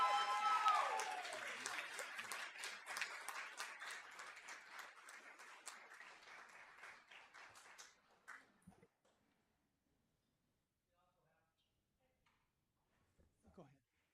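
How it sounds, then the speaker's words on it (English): Applause at a school board meeting, moderately loud clapping that fades over about eight seconds into near silence, with a few faint shuffling sounds near the end. "We're going to give you a round of applause for this"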